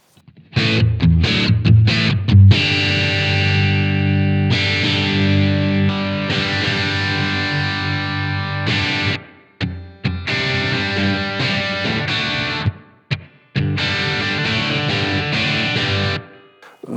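Electric guitar played through a Blackstar Amped 1 pedal set to the vintage oversized UK voicing with EL34 gain, loud crunchy distorted chords ringing out in phrases with brief pauses between them.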